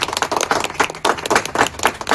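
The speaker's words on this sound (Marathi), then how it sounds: "एक जोरदार टाळ्या त्यांच्यासाठी झाला पाहिजे।" Crowd applause at an Annabhau Sathe birth-anniversary festival gathering for a newly elected president, a dense steady patter of many hands clapping close by, swelling in waves without pause.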